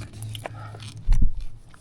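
Crunchy, undercooked dry noodles are bitten and chewed close to the microphone, a short burst of loud crunching after a quieter, murky stretch of low background noise.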